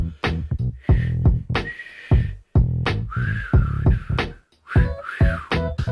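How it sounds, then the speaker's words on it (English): A person trying and failing to whistle produces short breathy squeaks and thin airy tones in broken bursts, with voiced, speech-like sounds mixed between attempts. "I can get a little squeaking noise or a little hint of a whistle"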